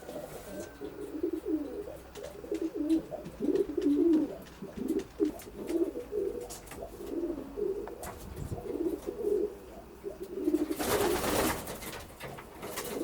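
Racing pigeons coo steadily inside a well-kept stock loft, a dense overlapping murmur of soft low calls from many birds close by, with a burst of wing flapping near the end.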